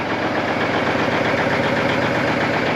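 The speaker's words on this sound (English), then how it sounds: "Fast idle and she's starting to clear up a little bit." Old Cummins diesel in a Kenworth K100 truck running at fast idle while still cold, a steady, loud, close rumble with an even pulsing knock throughout.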